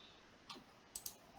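A few sharp computer mouse clicks during web page editing, one click followed by a quick double click, faint and isolated against a quiet background.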